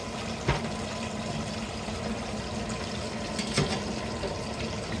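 Battered flounder fries in a pot of bubbling oil, giving a steady, close, crackling hiss with a couple of brief louder pops and no talking.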